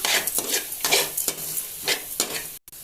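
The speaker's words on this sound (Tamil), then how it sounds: "நல்லா வணக்கி விட்டுக்கலாம்" A spatula scrapes a pan in quick repeated strokes over a light sizzle of oil-free frying with salt, turmeric and asafoetida, close up, no voices.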